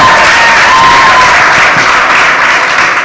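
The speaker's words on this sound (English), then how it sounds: "Can we give them a round of applause?" A conference audience at an open source community event in Africa gives a loud, sustained round of applause, dense clapping filling the room evenly from start to finish, with a brief voice heard over it early on.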